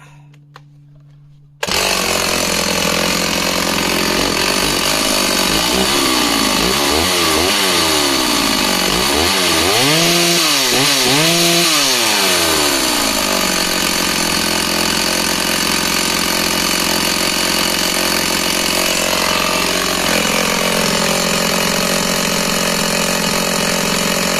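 A vintage Stihl chainsaw from the late 1950s to 1980s starts abruptly and roars loudly and close, its engine pitch dipping and rising repeatedly as it bogs into a wood cut, then settles to a steady high rev.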